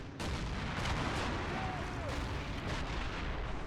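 Artillery fires in a WWII strategy game set at the Battle of Seelow Heights. Several deep booms and bursts rise over a dense, continuous rumble of distant gunfire that carries on without a break.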